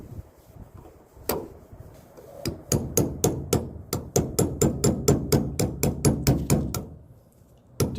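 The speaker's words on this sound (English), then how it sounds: "I had to use a punch and a hammer to get them loose" A hammer drives a punch to loosen stuck driveshaft bands on a Jeep Cherokee, ringing metallic strikes: a few spaced blows, then a fast, steady run of about twenty sharp hits, close and loud.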